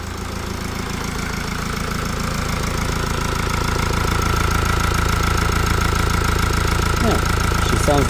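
A Mercedes E-Class OM654 diesel, just repaired after a botched camshaft job, idles close by with a steady, loud rumbling drone that holds even throughout, with a brief faint voice near the end.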